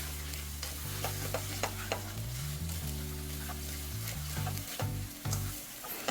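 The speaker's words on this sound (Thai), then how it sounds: "ผัดทุกอย่างให้เข้ากันให้หมดเลยนะครับ" Spaghetti stir-frying with sausage and tomato sauce in a pan gives a continuous sizzle broken by repeated scraping stir strokes, close and moderately loud, with a low steady hum beneath and no speech.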